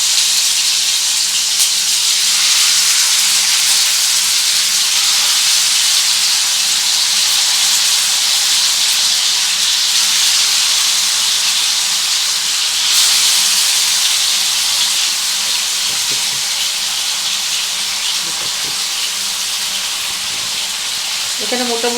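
Chicken pieces fry in hot oil in a frying pan, giving a loud, dense, continuous hiss and sizzle that holds steady close-up with a slight surge near the middle.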